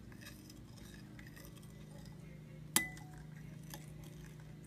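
A spoon stirs almond oil and essential oils in a cup, soft clinks against the side with one sharper clink, quiet and close over a low hum.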